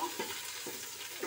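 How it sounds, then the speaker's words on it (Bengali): Mixed vegetables for a five-vegetable sabji are stirred in a pan for a brief moment, a soft sizzle with a few faint scraping strokes of a spatula, quiet and close. "এখন সব তরকারিগুলো একসাথে ভালো করে কষিয়ে নেব।"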